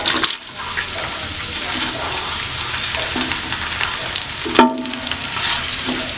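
Chopped onions sizzle steadily in hot mustard oil, a dense, continuous frying hiss with a brief sharp burst of splatter partway through, loud and close with no talking.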